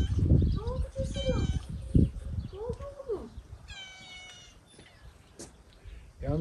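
A cat meows repeatedly in drawn-out, rising and falling cries over about six seconds, close by, with other voices and background activity underneath.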